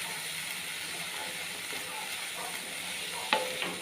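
Sprouts frying in hot oil with tempering spices give off a steady, even sizzle, with a brief clatter of a utensil near the end.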